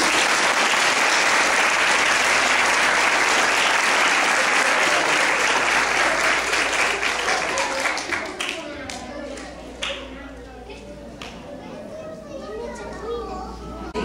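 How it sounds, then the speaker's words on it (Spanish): Applause and cheering children at a sixth-grade graduation ceremony: loud dense clapping with young voices for about eight seconds, then fading to scattered claps and chatter. "Un aplauso para mí."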